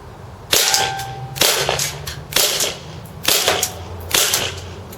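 KWA NS2 MP9 gas-powered airsoft gun firing 0.2 g BBs on semi-automatic at a can: five sharp, evenly spaced cracking shots about a second apart, each with a brief rattle of the target, close and loud.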